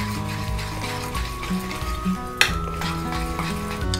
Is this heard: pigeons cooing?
no